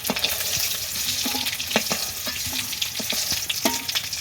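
Oil sizzles steadily in a pan as eggs fry, punctuated by sharp pops and the occasional scrape of a spatula stirring.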